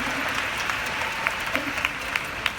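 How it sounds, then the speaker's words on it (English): Audience applause at a 2017 summit panel discussion, steady crowd clapping with a few sharper individual claps standing out, continuous through the clip. "let's give a round of applause to the husbands, Spencer, Niles, and Larry."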